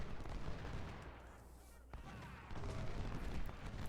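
Distant musket volleys and cannon fire from a Civil War battle at Seven Pines in the Ultimate General Civil War game, a dense crackling barrage rolling on continuously at low level.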